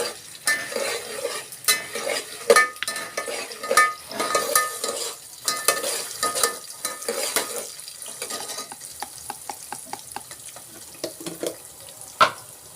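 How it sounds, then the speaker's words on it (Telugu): Peanuts fry in a pan with a low crackle as a spoon stirs and scrapes them, producing frequent sharp metallic clinks and rattles in uneven bursts, close and fairly loud. "పల్లీలు బాగా వేగాలి"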